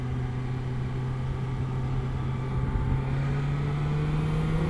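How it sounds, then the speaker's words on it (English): A second-generation BMW S1000XR motorcycle drones at a steady buzz while riding, a constant low engine tone that climbs slightly in pitch partway through, with wind rush and no talking. "So this one is buzzy. It's not vibration, it's just buzzing at all speeds."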